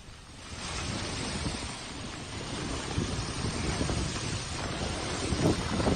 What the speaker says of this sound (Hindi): फिर तेज हवाएं चलने लगी और हवाओं के साथ साथ बारिश भी होनी शुरू हो गई